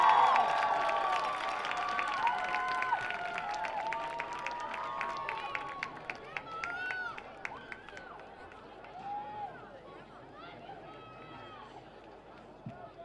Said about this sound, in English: Let's give each of these senior members a big round of applause